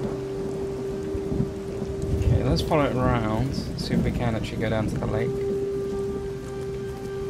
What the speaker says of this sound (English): Jeez, this storm.